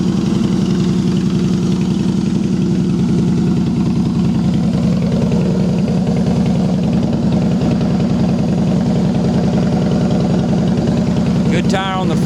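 Harley Davidson Heritage Softail Classic FLSTC motorcycle with about 5,854 miles, its engine idling in a steady, loud, close low rumble that holds unbroken throughout, with a brief higher rattle near the end.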